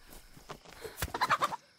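Chicken clucking in the survival game DayZ, a burst of several short rapid clucks rising in loudness toward the end, fairly close, with no talk over it.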